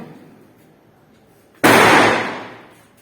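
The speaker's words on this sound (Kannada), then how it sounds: "ನೋಡ್ರಿ ಪಟಾಕಿ ಡಮ್ ಡಮ್ ಅಂತವು" One firecracker bursts with a sudden loud bang during Ganesh festival celebrations in Belagavi, its rushing blast slowly dying away after a quiet stretch.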